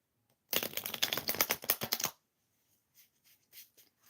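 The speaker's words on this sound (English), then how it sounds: "Would you like me to shuffle some cards for you?" Tarot cards are riffle-shuffled up close, a quick rapid burst of flicking lasting under two seconds, followed by a few faint soft taps.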